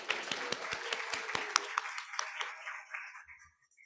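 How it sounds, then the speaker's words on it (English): Applause from an audience at an education pinning ceremony, a burst of many hands clapping that gradually thins out and fades to silence over a few seconds. "So let's give them a round of applause as well."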